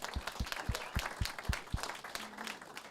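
Audience applause at a Kansas City Woodworkers' Guild meeting, a quiet, brief patter of distinct claps from a small group, with a few separated claps in a loose rhythm fading out within about two seconds.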